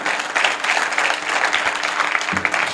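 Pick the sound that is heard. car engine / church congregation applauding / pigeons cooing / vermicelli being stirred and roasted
church congregation applauding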